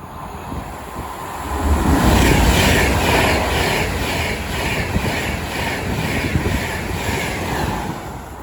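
A Class 390 train on the West Coast Main Line at Watford Junction, running London Euston to Glasgow Central, passes close by with a loud, sustained roar of wheels and rushing air and a rhythmic clatter.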